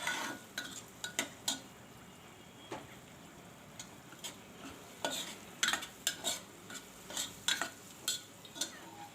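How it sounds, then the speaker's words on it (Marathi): Dry spices for a bottle gourd and chana dal dish are stirred and roasted in a pan over a low flame, with soft steady frying and repeated sharp spatula clicks and scrapes against the metal. "आता हे सुके जिन्नस चांगले मसाले चांगले परतून घेऊया"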